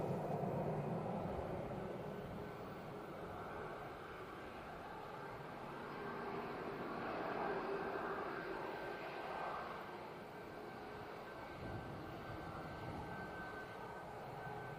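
Aer Lingus ATR turboprop landing at Manchester Airport, a steady engine drone with propeller hum, swelling slightly mid-way and heard from a distance over faint ambient noise.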